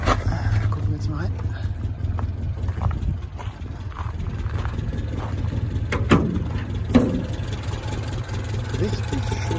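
A Volvo Amazon engine fitted with twin Weber sports carburetors idles steadily up close, a low continuous rumble with a couple of small revs, while people talk over it.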